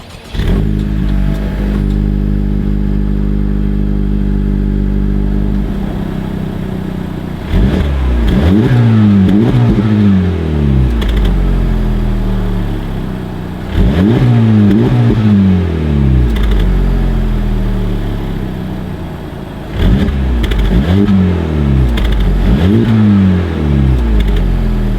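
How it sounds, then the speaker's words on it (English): A Honda Civic Type R FL5 exhaust revs hard in repeated bursts, each climbing and falling back to a smooth idle, loud and close with no voices. "let's give you guys an exhaust clip"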